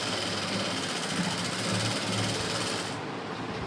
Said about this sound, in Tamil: அப்புறம் ஒன்று மேலே ஒன்றா வச்சு அப்படியே தைச்சிடலாம்